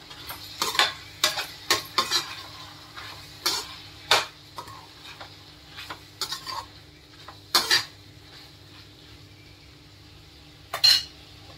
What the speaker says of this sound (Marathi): थोडीशी कोथिंबीर टाकूया, पुदिना टाकूया, मिक्स करून घेऊया।